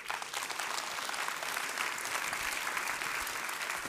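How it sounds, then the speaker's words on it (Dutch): Applause from the audience at a plenary meeting, a dense, even patter of many hands clapping, heard from some distance and steady throughout. "En die mag u ook een groot applaus geven."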